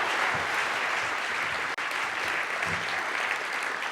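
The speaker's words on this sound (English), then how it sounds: "Please give him another round of applause." Steady round of clapping from a conference audience at a tech talk, even and sustained, with one very brief dropout midway.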